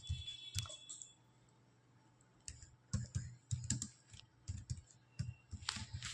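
Bursts of quick clicking keystrokes on a computer keyboard while Java switch-case code is typed, near and fairly quiet, with irregular clusters separated by a pause of near silence.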